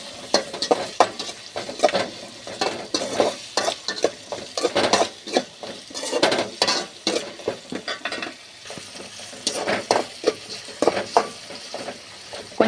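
Tomatoes sauté in a pan for a garlic curry, with a soft sizzle under repeated scraping and clattering of a spoon stirring against the metal, close and rhythmic, with no talking.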